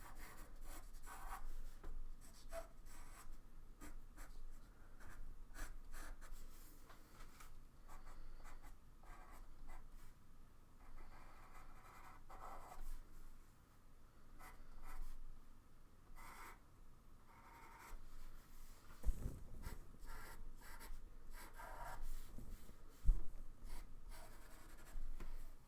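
A pastel pencil scratches and rubs across paper while drawing a Northern Lights scene, a steady soft rasping of strokes close up that continues for a long stretch with small pauses and a few faint knocks.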